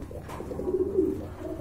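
Soft, low cooing of pigeons close by, a few rolling throaty calls over a quiet background.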